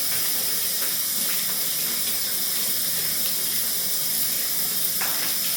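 Tap water runs steadily while hair is rinsed after a hair treatment, a continuous broadband splashing hiss close by with a few faint clinks, and no voices.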